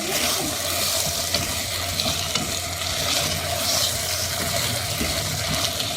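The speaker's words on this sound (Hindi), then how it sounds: "चिकन ऐड कर दूँगी। ये जितनी भी चिकन फ्राई करके रखी थी सब चलेगी इसके अंदर।" Fried chicken pieces being stirred into a thick Manchurian gravy in a pan give a steady, continuous sizzle and frying crackle with scraping of the spoon, fairly loud and close, no talking.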